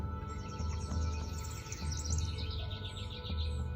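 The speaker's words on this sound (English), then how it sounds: "The birds are chirping." Birds chirping in the morning, a busy chorus of repeated high tweets and calls continuing throughout over a steady background hum.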